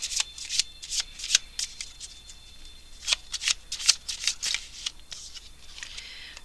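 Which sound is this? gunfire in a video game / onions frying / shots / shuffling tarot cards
shuffling tarot cards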